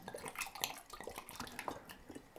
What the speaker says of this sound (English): So now I'm going to take this master bottle and just pour a little bit into each one.